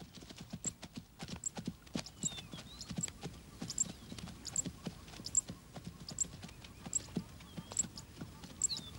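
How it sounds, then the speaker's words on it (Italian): Zebras walking single file through grassland make a steady run of soft, uneven hoof thuds across open ground. The sound is fairly faint and distant, with a faint repeating chirp high above it. "mentre i cavalli a strisce camminano in una fila ordinata"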